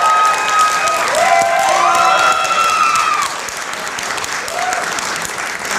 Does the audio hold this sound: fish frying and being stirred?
no